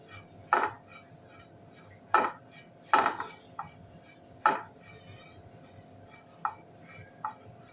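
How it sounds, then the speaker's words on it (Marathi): Dry coconut is roasted in a pan over a gas flame, with a spoon knocking and scraping against the metal in about seven sharp, irregular clinks over a quiet background. "पहिल्यांदा आपण सुकं खोबरं भाजून घेऊया"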